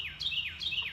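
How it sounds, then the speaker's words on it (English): A small bird chirps in quick, bright rising-and-falling tweets, a few repeated calls close by on a clear summer morning. "bird is here"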